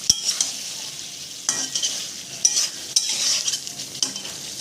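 Raw hilsa fish coated in turmeric, cooked with taro and potato, is stirred in a wok: repeated scraping stirs and clinks over a lively close sizzle, rising and falling with each stroke.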